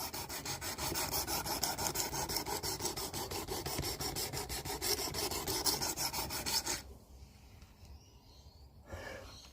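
A knife blade is stroked across the abrasive of a Work Sharp Precision Adjust sharpener, a close, rhythmic rasping rub repeated rapidly for several seconds, then stopping abruptly into near quiet with a faint scrape at the end.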